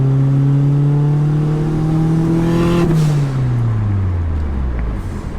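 A car engine revs loud and close, its pitch climbing steadily before dropping away as the throttle eases off.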